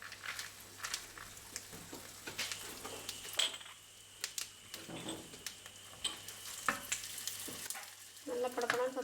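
Cumin seeds and cashews crackling and sizzling in hot fat while tempering for ven pongal, a steady close frying hiss dotted with sharp pops and occasional stirring clatter, with no talk.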